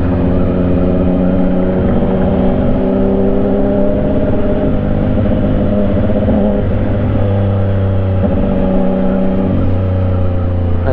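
A new Suzuki GSX-S1000 motorcycle on a break-in expressway ride gives a loud, continuous engine drone, its pitch rising and falling with throttle, close and alone.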